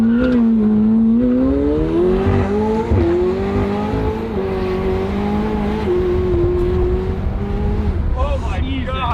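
A McLaren 720S with traction control switched off accelerates hard, its engine note rising and falling under loud, close tire noise, while people talk and exclaim over it throughout.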